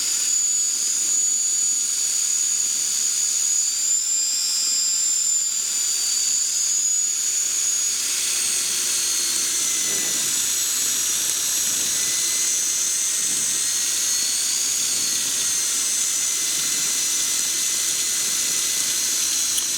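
An electric motor on a PeaBee trike whines steadily at cruise power in flight, a loud, constant high-pitched hum over rushing wind, with no break.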